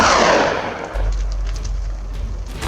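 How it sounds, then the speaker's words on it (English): Gunfire crackles amid a dense burst of noise during a wild boar hunt in a Florida forest, followed by a steady low rumble with scattered sharp cracks in the distance. "the continuous sound of gunfire"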